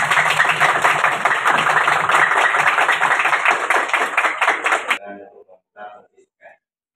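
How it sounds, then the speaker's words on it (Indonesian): Applause from an audience at a motorcycle mechanic training session, dense and steady clapping for about five seconds, then cutting off to a few scattered claps and small sounds. "Aplaus untuk kita semua."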